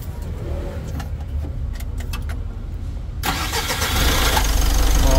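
A car engine cranks and catches during an automotive turbo check, then settles into a louder steady idle up close, with a few faint clicks before it fires.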